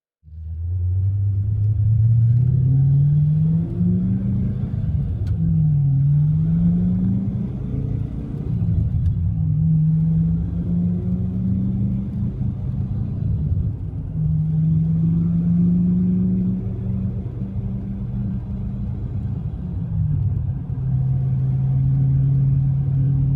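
A pair of Ford Mustang Fox Body cars, including a 1992 coupe, driving out in the morning on the way to a car show, giving a steady loud engine rumble that rises and falls as they shift and accelerate.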